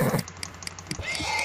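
Horse neighing in Minecraft, a short whinny with hoof-like clip-clop taps, fairly close and clear, with no talk over it.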